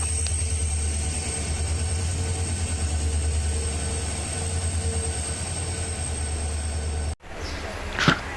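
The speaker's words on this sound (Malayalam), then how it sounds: "ഗോവ എക്സ്പ്രസ്സിലാണ് ഗോവയ്ക്ക് പോകുന്നത്." The Goa Express passenger train running, a steady low rumble with rhythmic wheel clatter and faint squealing tones, ending in a sudden cut followed by a short, quieter stretch.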